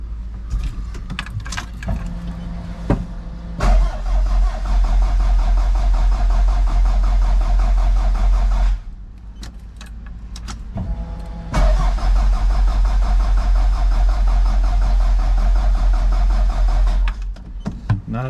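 A Toyota MR2 with a 3S-GTE engine on a coil-on-plug ignition setup cranks over, catches, and runs at a loud, steady idle, then cuts out briefly before restarting and idling again. A faint whirring plays at the start, and no one speaks.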